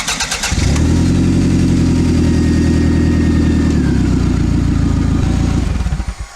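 A 1996 Toyota Camry LE with a rotted exhaust flex pipe after the downpipe starts up and idles loudly, giving a harsh, droning exhaust rumble with a steady pulsing beat for several seconds before cutting off.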